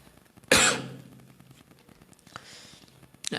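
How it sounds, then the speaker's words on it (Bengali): A single sharp cough breaks out close by at home while spicy food cooks nearby, followed by quiet breathing and a second cough cutting in at the very end. "মশলার গন্ধে বারবার আমার কাশি হচ্ছে।"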